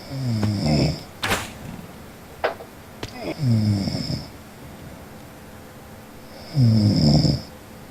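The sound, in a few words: person snoring over Skype call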